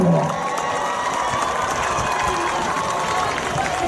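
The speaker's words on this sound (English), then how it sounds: "Let's give a round of applause to our Homecoming Court and their escorts and our Homecoming Queen, Isata Senko." A large crowd at a 2018 high school homecoming halftime ceremony applauds and cheers steadily, a dense roar of clapping and shouts that carries on without a break.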